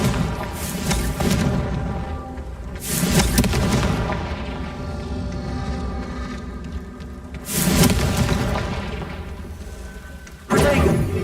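Booming blasts from the Confringo fire spell in the Hogwarts Legacy video game, a few heavy explosive bursts spaced several seconds apart over a steady rumbling background.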